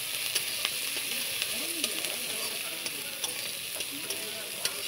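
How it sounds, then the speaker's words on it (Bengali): Chopped onion and green chili frying in oil in a pan, a continuous close hissing sizzle broken by sharp periodic scrapes and taps of a spatula stirring, with faint voice murmurs underneath. "এটাকে ভালো মতন ভাজা করবে।"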